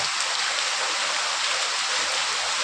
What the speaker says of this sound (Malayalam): അപ്പോൾ നേരം വെളുത്തേക്ക് തന്നെ മഴയുണ്ട്